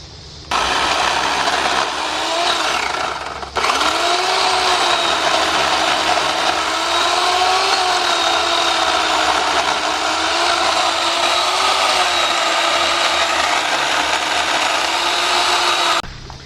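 Chainsaw cutting through a white oak slab for a workbench, running steadily and loudly for about fifteen seconds with one brief drop in pitch partway, no talk over it.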